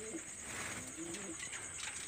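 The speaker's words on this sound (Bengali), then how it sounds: "সেই কামাগার কবুতর" Kamagar pigeons, the parent pair of a breeding loft, coo in soft low repeated phrases that sit faintly beneath steady background noise.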